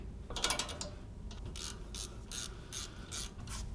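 Ratchet clicking while loosening a tight 12 mm brake line bracket bolt on a 2000-2007 Toyota Sequoia or Tundra, with a burst of quick clicks followed by several evenly spaced ratcheting strokes, close and clear.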